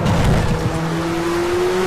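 A race car in Project CARS at Mount Panorama roars loudly as its engine pitch climbs steadily, with tire squeal at the start and no voices over it.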